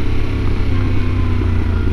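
Yamaha Tenere 700 adventure motorcycle ridden on gravel, with a steady, loud, close engine drone and a rough rumble throughout and no voices.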